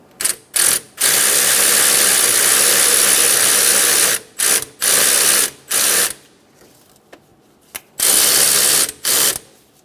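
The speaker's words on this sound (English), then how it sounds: "Snug down the adjusting bolt." A ratchet clicks in quick bursts while snugging down the belt adjusting bolt on a 1994-1997 Honda Accord 2.2L four-cylinder engine, with several short runs of dense ratcheting separated by pauses and small taps.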